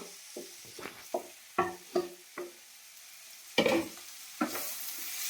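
Potatoes tipped into a hot pan and stir-fried for a spicy vegetable Maggi, a run of sharp clattering spatula strokes over a soft sizzle, close up, with a louder burst near the end.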